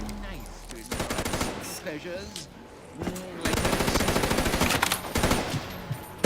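Death machine gunfire in a zombies video game, rapid continuous bursts of rattling fire with brief pauses, loud and dense, under a commentator's talk.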